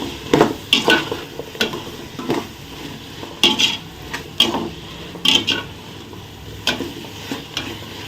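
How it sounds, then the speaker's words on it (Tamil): Vegetables, peas and soya chunks for a vegetable biryani are stirred in a pan with a spoon, giving repeated scraping and clattering strokes in uneven bursts over a faint sizzle. "பட்டாணி மீன் மேக்கர் போட்டு நல்லா மிக்ஸ் பண்ணிக்கிறோம்"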